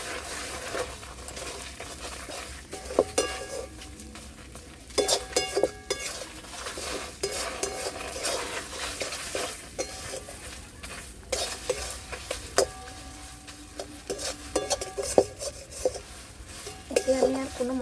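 Food stirred and fried in a pan for a lentil, egg and potato curry, with close scraping spoon strokes and clinks over a steady sizzle and no talk.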